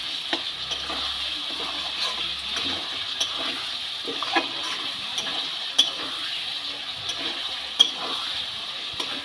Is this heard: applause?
no